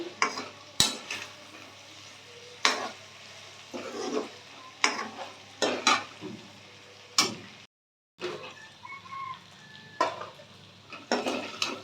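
Lesera sizzles in a pan while a utensil scrapes and clatters against the metal in irregular bursts, a soft steady fry underneath and a brief silent gap partway through.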